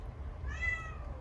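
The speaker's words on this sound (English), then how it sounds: "Oh my gosh, my cat." A house cat gives a single soft, drawn-out meow indoors, fairly quiet against a low background hum.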